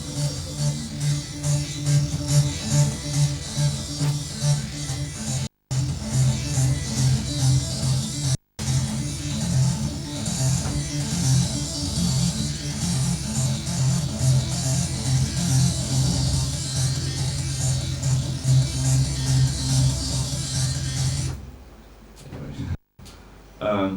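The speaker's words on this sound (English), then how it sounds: "What you're hearing is the pins from the print head hitting the paper" A dot matrix printer used as a synth: its print-head pins hitting paper make rapid buzzy mechanical tapping that forms pitched notes cycling in an arpeggio-like pattern, steady and fairly loud, with two brief dropouts and an abrupt stop near the end.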